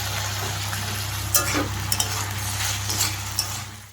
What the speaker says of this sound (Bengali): এদিকে দেখো বসিয়ে দিয়েছি ভাজা, আলু বটবটি ভাজা